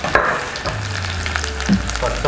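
Garlic frying in hot coconut oil, sizzling steadily and close with a few stirring scrapes over about two seconds.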